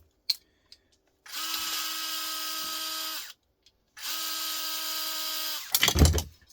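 Cordless power tool removing a couple of screws from a small piece of aluminium scrap: two sustained whirring runs of about two seconds each, close and fairly loud, bracketed by small clicks and a final clatter of handling.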